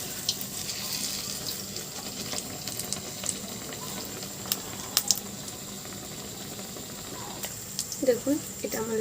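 Ash gourd pocket snacks frying in batter in hot oil, a soft continuous sizzle and bubbling close by, with a few brief clatters and a voice talking near the end.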